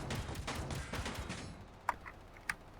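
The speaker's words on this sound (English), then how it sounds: "the noise of gunfire constantly in the background." Bursts of rapid video game gunfire from Space Engineers crackle at moderate volume, then fade to a couple of sharper isolated shots against a quieter background.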